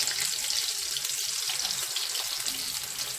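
Pork cutlets frying in oil in a lidded pan give off a steady, dense, close sizzling hiss that holds evenly throughout with no voices.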